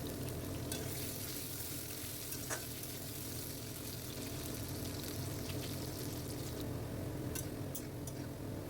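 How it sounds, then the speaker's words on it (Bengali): Potatoes frying in oil in a pan make a faint, steady, dense sizzle that runs the whole time, with a few light clicks scattered on top and no talking. "আলুগুলো লাল লাল করে ভেজে নিতে হবে।"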